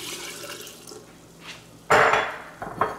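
Moscato wine poured into a pitcher for apple sangria, a brief splashing liquid gush arriving suddenly after quiet kitchen background, then a couple of smaller splashes.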